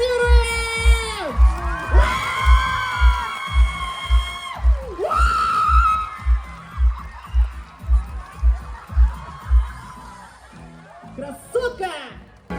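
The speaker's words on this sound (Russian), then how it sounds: "Аплодируем!" Festival crowd cheering, whooping and shouting loudly with rhythmic clapping, close and sustained; people speak over the noise.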